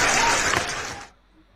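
Applause from a classroom audience, loud and dense clapping for about a second before it cuts off abruptly into near silence.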